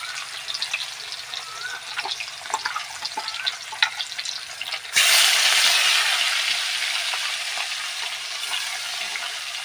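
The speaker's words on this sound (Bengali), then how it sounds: "এবার মাছগুলো আমি ভেজে নেব" Rohu fish fry in hot oil, starting with crackling, spitting pops, then swelling abruptly into a loud, continuous sizzle that slowly eases off.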